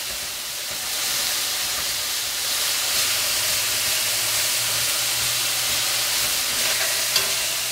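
Pork meat searing in a hot pan for chile verde, giving a steady, close broadband sizzle and hiss that holds throughout, with no talking.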